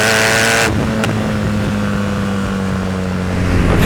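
A BMW R nineT Racer's 1200 cc flat-twin, 110 hp, revs hard for a moment, then the loud engine drops to a steady low drone that holds to the end, with no voices over it.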